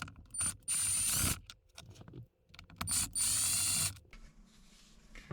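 A Torx driver ratchets in short bursts, undoing screws on a Hansshow swivel screen mount in a Tesla. The clicks are close and distinct, with brief pauses between runs and no voices.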